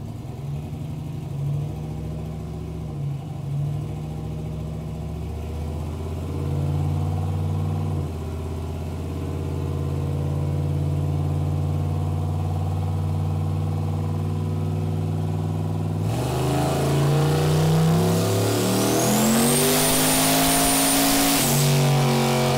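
Turbocharged 4.8L LS V8 in a Crown Victoria running hard on a dyno at full wastegate duty cycle, a loud sustained engine drone that climbs and surges into a screaming high-rpm pull near the end, with turbo whine rising over it.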